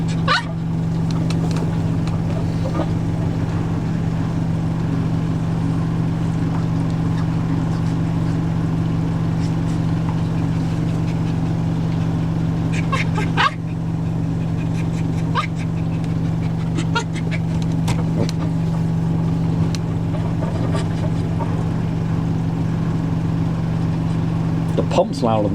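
Fisher & Paykel WM1490F1 and Hoover A8582 Ecologic 1300 washer dryers running together, the pump droning steadily over the motor. The low hum holds unbroken throughout at close range, with some talk over it.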